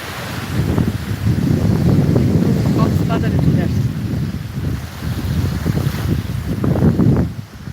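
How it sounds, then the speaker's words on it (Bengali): Sea waves roar against a beach while strong gusts buffet the microphone. The result is a loud, continuous rumbling wash with some talk over it. "সমুদ্রের গর্জন"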